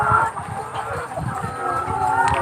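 Laying hens on a poultry farm at night, a dense, steady chorus of clucking and murmuring from many birds, continuous and fairly loud, with a voice talking faintly over it.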